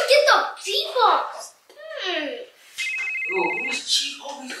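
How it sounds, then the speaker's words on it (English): Electronic phone ringtone with a steady tonal ring in the middle of the clip, close and clear, while someone speaks loudly over and around it. "Yo, who is Chief Obi calling on my phone?"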